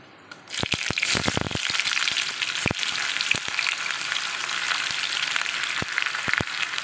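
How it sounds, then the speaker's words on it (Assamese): Onions tipped into hot oil with a little sugar for a mutton curry hiss at once into a steady, loud sizzle that carries on with faint crackles. "গোটেই পিঁয়াজখিনি মই তেলত দি লওঁ"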